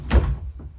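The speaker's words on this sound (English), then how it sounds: "I'm going to close the door for privacy." A door in an exam room swings shut with one solid, close thud, followed by a faint softer knock as it settles; no voices.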